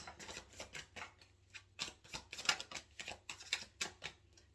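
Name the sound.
shuffling and drawing tarot cards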